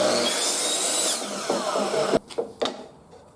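A power saw cuts a 12-inch length from a 1x2x8 exterior PVC trim board, a loud continuous whine lasting about two seconds, followed by a few sharp knocks and clatters as the pieces are handled.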